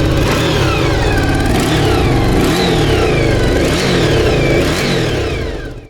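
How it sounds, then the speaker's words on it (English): An old Honda VFR 750 motorcycle engine revs hard several times, each rise and fall sweeping loudly over a throbbing idle, close up and continuous. "I guess we are ready to put it on the bike and see if we can start the bike."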